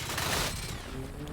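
Gunfire bursts out in the Generation Zero video game, a dense, loud rattle of shots across farmland that fades quickly as a voice talks faintly underneath.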